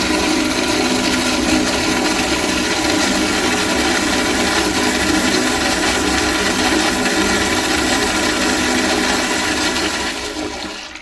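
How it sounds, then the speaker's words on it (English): An Eljer Signature back-outlet toilet flushes with a loud, steady rushing roar of water held close up for about ten seconds, fading slightly at the end. "Now let's take a look at a flush."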